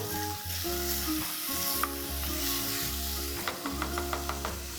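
Chopped onion and salt stirred in a hot frying pan for Maharashtrian zunka vadi, a steady close sizzle with scraping stirs and a few sharp spatula clicks toward the end.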